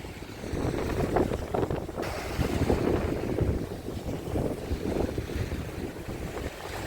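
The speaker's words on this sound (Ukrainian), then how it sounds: "вітер розпочався" Steady wind roars and buffets the microphone throughout on the Black Sea shore in Odesa after sunset, with seawater lapping underneath; no voices.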